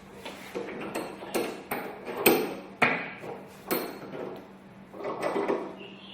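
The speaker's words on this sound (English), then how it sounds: "to join them together, I'm going to tighten the sash clamps" Sash clamps being tightened on two wooden pieces in a workshop, giving a series of separate metallic clicks, pings and knocks with brief pauses between them, close and fairly loud.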